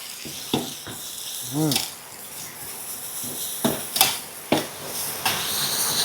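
Minced pork hits a hot pan for dry stir-frying, giving a soft steady sizzle broken by sharp clanks and scrapes of a utensil against the pan, with a brief voice partway through.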